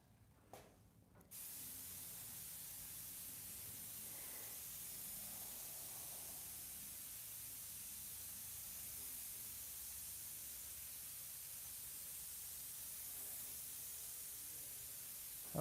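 Steady, continuous hiss of spray paint going on as a coat, heard close and unbroken for about fifteen seconds after a brief quieter start.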